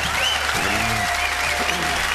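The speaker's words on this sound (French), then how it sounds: "On vous applaudit" Audience applause during a French geek-radio interview with a band, steady clapping filling the whole stretch at close, even loudness, with a faint voice briefly over it.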